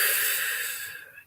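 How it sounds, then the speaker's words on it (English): A slow breath out during a guided meditation, soft and close, hissing steadily then fading away over about a second with no talking. "and breathing out."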